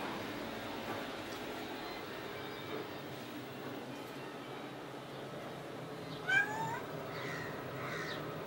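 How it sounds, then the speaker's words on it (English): A domestic cat meowing indoors, a couple of short, faint meows in the last few seconds over a quiet room background. "We have a strange cat."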